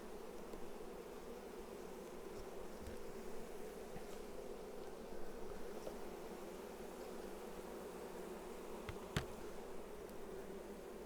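Honey bees during an autumn hive inspection, a faint, steady buzzing hum with a few brief clicks and taps from handling the frames.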